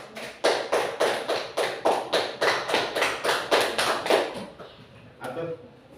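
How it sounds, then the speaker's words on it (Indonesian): A school class claps for a group in a steady, rhythmic pattern of about a dozen unison claps, bright and close, ending in a few scattered softer taps. "Tepuk tangan untuk kelompok Mawar."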